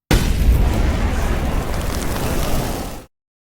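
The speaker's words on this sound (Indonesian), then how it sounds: "akibat ledakan itu, sisa pasukan John pun tewas bersamaan dengan John yang terluka parah" A loud, sustained deep explosion boom from a film, with rumbling low-end roar that holds steady for about three seconds before cutting off abruptly.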